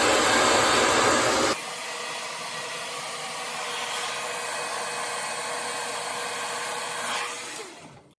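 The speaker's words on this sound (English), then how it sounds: "I'm just gonna put my blow dryer on low" A hair dryer blowing with a steady airy whir; a louder rush at the start drops to a gentler, low-heat setting that runs on evenly before switching off.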